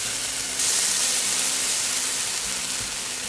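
Golden grilled ginseng in a pan with sauce spooned in over the lowest heat, giving a steady close sizzle that swells when the sauce goes in, with a low hum beneath.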